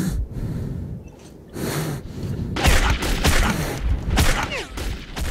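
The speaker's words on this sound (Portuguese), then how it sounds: "Ele tá atirando contra a parede" Bursts of gunfire in the video game Metro 2033 crack out in rapid volleys, loud and close, mixed with sharp impacts and breathy noise and growing denser toward the end.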